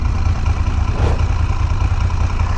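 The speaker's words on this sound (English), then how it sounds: "the sound of this engine." A motorcycle engine idles steadily up close, a low, even rumble that holds constant throughout.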